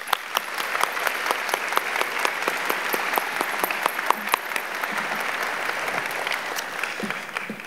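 Audience applause for sponsors at a 2021 National Philanthropy Day gala in Orange County, a steady, dense clapping from a large crowd that holds evenly throughout with sharp individual claps standing out.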